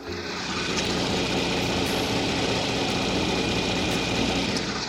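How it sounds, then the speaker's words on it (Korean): Gasoline engine of a Hyundai Equus idling with the hood open, a steady, smooth, quiet hum with a faint high whine, constant and close, no voices. "역시 휘발유 엔진을 탑재한 만큼 차량 엔진 소음도 정말 조용하고 정숙한 차량이고요"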